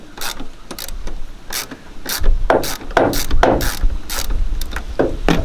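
A ratchet works loose a 10mm bolt holding the coolant overflow bottle on a Holden Captiva, giving close, loud bursts of rapid clicking in several uneven runs with no talk.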